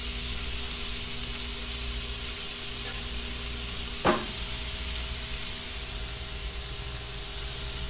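Meat frying in its own rendered fat and oil in a pan for Arabian kabsa, a constant close sizzle with one brief sharp crackle burst midway.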